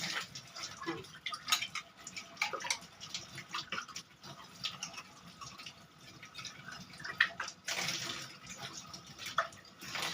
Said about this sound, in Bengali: যে ব্রাশ করে গাছগুলো ধুচ্ছি